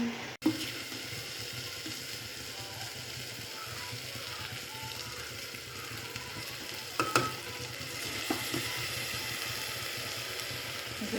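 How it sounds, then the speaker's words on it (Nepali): Buffalo meat sizzling and frying in a pan for a New Year dinner, a steady soft hiss running throughout with occasional stirring clinks, close and fairly quiet. "भुट्दैछु मैले।"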